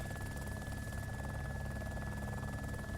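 A helicopter in a video game flies with a continuous low rotor drone and steady engine hum, moderately loud throughout, with no talking.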